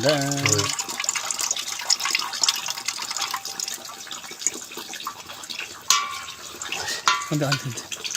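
Water gushes and splashes out of a gas cylinder in uneven bursts while someone talks over it, with sharp clatters partway through.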